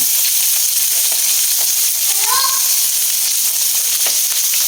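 Onion and ginger sizzle in a large wok, giving a steady bright frying hiss throughout with faint stirring clinks, close and continuous.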